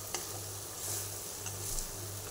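Spice masala sizzles in hot oil in a pan while being stirred for a Marathi-style amti curry; a close, steady frying hiss with soft scraping strokes and a low hum underneath.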